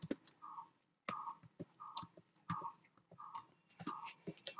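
Typing on a computer keyboard, bursts of close key clicks in uneven clusters with short pauses, quiet and with no talk.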